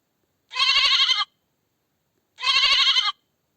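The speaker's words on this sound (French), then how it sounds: "agneau," A lamb bleats twice, each a short wavering cry of under a second, close and clear with a pause of silence between them.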